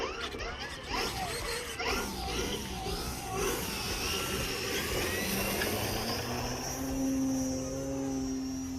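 A radio-controlled Extreme Flight Turbo Bush Master plane with an 84-inch wingspan on 6S power drones through its propeller, a steady, moderately loud buzzing whine that shifts pitch as it passes and fades, with no voices.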